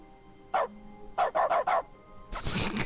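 A single dog bark from The Stanley Parable: Ultra Deluxe followed by a quick run of three more barks, close and clear, then a burst of broadband noise at the end; no one speaks.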